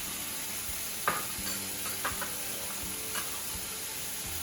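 Mild chili stirred into a sizzling pan of curry for biryani: a steady low sizzle with a few soft scraping stirs of the spoon, close and moderately quiet.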